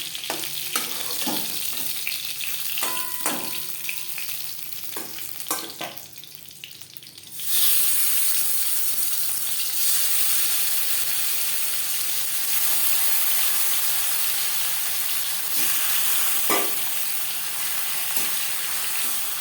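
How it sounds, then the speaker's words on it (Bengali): Silver carp fish sizzles while frying in oil, a close, continuous crackle with utensil knocks early on, then a louder burst of sizzling about halfway that carries on steadily to the end. "পরের মাছ একইভাবে ভেজে নেব"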